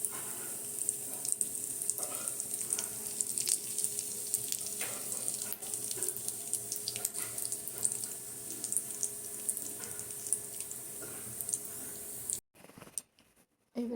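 Carom seeds and asafoetida dropped into hot oil for a carambola pickle crackle with a steady, fairly quiet sizzle and scattered pops, ending in a few short bursts and gaps.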